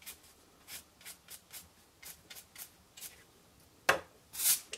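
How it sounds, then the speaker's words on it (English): A small paintbrush sweeping excess embossing powder off a card: a string of soft, quiet bristle strokes in a steady rhythm, close and alone, with a sharper brush and scrape near the end. "So a little paintbrush just to take excess powder off."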